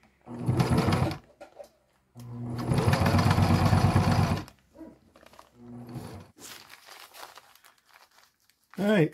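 A sewing machine runs in bursts while stitching a homemade food or bear bag, two long runs and shorter stops, with crinkling fabric handling and a voice speaking between.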